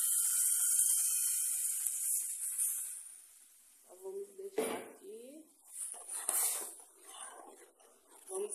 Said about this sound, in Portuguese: Agora eu vou colocar aqui o tomate para cozinhar, né? Fazer um fritado aqui.